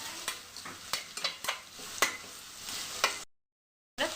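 Eggplant stir-fry with curry leaves stirred in a pan: repeated close scrapes and taps of a spoon against metal over a low sizzle, with a brief silent gap before the stirring resumes.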